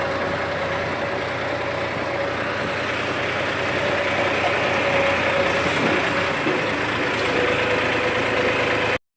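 A tractor engine idles steadily nearby, a constant low rumble with a droning hum and no speech.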